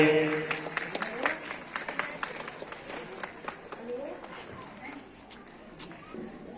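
An audience at a school's annual sports day claps for a chief guest. Scattered, distinct claps ring out over a voice at first, then thin and fade to lighter clapping in the background.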